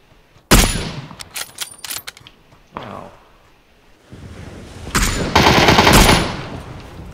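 Gunfire in PUBG during a Kar98 sniping fight: a loud sharp shot opens, followed by a rapid burst of cracks, then wind-like rushing and another loud sustained burst of fire near the end.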